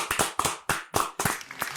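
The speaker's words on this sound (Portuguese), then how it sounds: "Palmas pra ele, por favor." A short burst of clapping for a podcast guest, about five sharp separate claps in an uneven rhythm, close and moderately loud.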